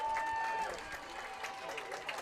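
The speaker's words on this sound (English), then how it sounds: "gets a great round of applause here as he runs to the near sideline" Stadium crowd applauding and cheering at a high school football game between Pennsbury and Central Bucks as an injured player jogs to the sideline; steady broad clapping throughout with a whistle-like tone near the start.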